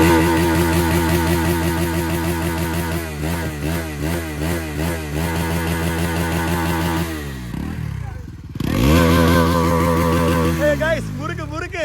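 A Bajaj Pulsar NS400 motorcycle with its stock exhaust revs close by, a loud buzzy engine note rising and falling in repeated throttle blips, briefly dropping off before climbing again, with voices talking over it.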